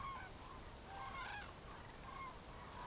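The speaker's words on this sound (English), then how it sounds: "The cranes find abundant food here, and compared to their breeding grounds, there's a lot more light and a lot less cold." Cranes wintering in a Mediterranean forest give several trumpeting calls, faint and distant over a low background rumble.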